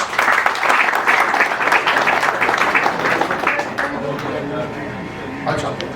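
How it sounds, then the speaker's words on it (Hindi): A seminar audience of students at a diamond institute's import-export event claps in a loud, dense burst of applause that carries for about four seconds, then thins and fades out. "आप सबके लिए दो तालियां हो जाए"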